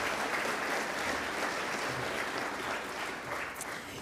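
An audience claps continuously for basketball coach Tubby Smith at a college leadership talk, a steady even wash of applause held at a moderate level throughout.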